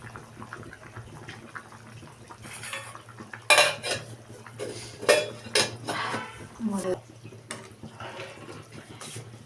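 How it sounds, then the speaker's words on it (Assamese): Fish pieces dropped into a boiling curry in a metal pot and stirred, with sharp clinks and scrapes of a spoon against the pot, irregular and close, over a low steady hum. "তাত জোলটো উতলিছে আৰু ইয়াতে এতিয়া মই মাছখিনি পেলাই দিম"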